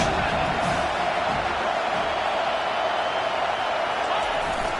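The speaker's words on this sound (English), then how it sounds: "this crowd is turning it up a notch" A roaring stadium crowd in a college football video game swells into sustained cheering as a drive nears the red zone, a loud, dense wash of noise from start to finish.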